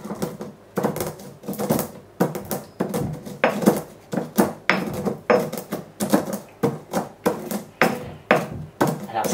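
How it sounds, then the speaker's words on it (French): Black peppercorns being crushed to a coarse mignonette in a mortar: a steady run of sharp, knocking pestle strikes, roughly two to three per second, close and fairly loud, with no talking. "on va concasser en mignonette le poivre"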